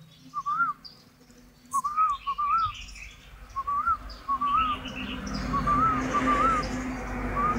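A spotted dove in northern Vietnam coos in short, soft, repeated phrases. The calls come in a steady series at moderate distance over a low background hum, with no talk.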